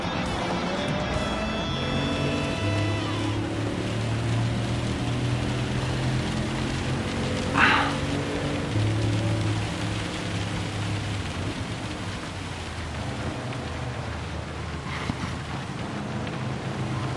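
Rain during a Gran Turismo 7 race, heard as a steady patter under a low engine drone, with a brief sharp splash or hit partway through.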